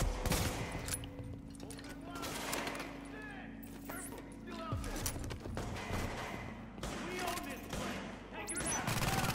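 Gunfire rattles in the video game Tom Clancy's The Division, with repeated bursts and scattered shots, some close and some distant, while someone talks over the shooting.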